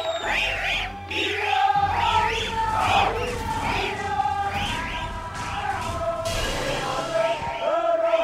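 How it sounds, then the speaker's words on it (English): Villagers at a Pacific Islands land-diving ceremony cheer and sing in a dense, continuous crowd roar, with high chanting and whooping voices rising and falling close by throughout. "The crowd cheer and dance."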